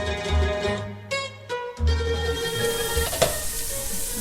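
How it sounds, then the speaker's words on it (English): Onions sizzle and fry in a lidded pot for chicken tinola, a crackling hiss with brief clatters and a lid knock, close up, with no talking. "So by putting the lid, it's helping the onion caramelize and not burn."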